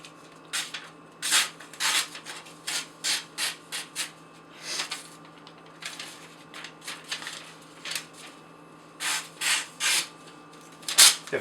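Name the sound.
Microtech knife slicing through rope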